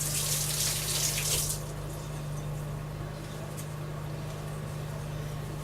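Liquid poured into a hot pot roast pan, with a bright hissing splash for the first second or so, then a quieter steady bubbling sizzle with a constant low hum underneath.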